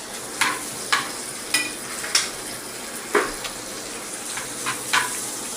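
Sisig sizzles and fries in a hot pan, a steady crackle broken by about eight sharp metal clanks of a utensil stirring against the pan at an uneven rhythm, with no talk.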